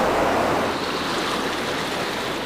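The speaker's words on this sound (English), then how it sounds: "a large and fast river now flows through the cave" A large, fast river rushing through a huge cave deep underground, a steady, loud, broad roar of churning water filling the whole span without a break.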